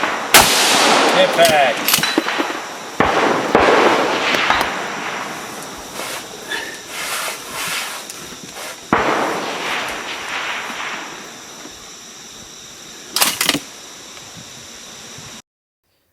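Rifle shots fired at steel IPSC targets at long range during a Border War competition stage, with several sharp, loud cracks spaced apart, trailing echo and wind noise, and a brief spoken command early on.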